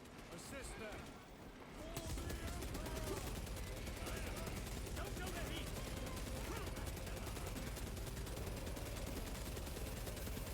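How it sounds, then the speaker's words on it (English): Small-arms gunfire in the video game Space Marine 2 keeps up a steady, dense rattle of close shots for most of the stretch, with voices talking over the battle. "Small arms fire. It sounds close."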